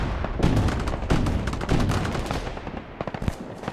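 Gunfire from a tank in the video game Broken Arrow, a dense run of heavy shots and booms during a multiplayer battle between US Marines and Russians, loud and continuous before thinning into sharper separate bursts.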